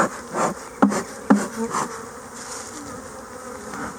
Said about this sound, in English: Now we're getting bees mad.